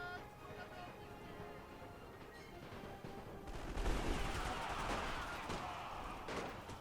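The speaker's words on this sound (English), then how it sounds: "Oh, the enemy's returning fire." Gunfire in The Great War, a Russian Empire versus Red Army battle game: scattered dull shots at first, then a dense crackling fusillade of rifle and machine-gun fire swelling and sustaining, fairly distant.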